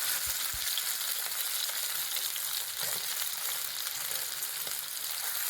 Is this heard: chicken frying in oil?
yes